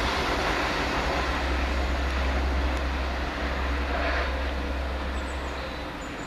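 A Northern Rail train on the Huddersfield to Leeds service pulls in, a steady low rumble and broadband roar holding loud and close throughout before easing slightly at the end.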